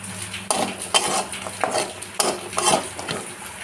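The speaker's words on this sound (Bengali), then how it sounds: "এবার এই তেলের মধ্যেই বড়িগুলো, ডালের বড়িগুলো ভালো করে ভেজে নেব লাল লাল করে।" Lentil dumplings (bori) frying in hot oil in a home kitchen, a steady sizzle broken by repeated sharp scrapes and knocks of a spoon stirring against the pan, no voices.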